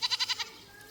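A goat bleats five times in a quick, loud, close burst of wavering cries, then goes quiet with faint background noise.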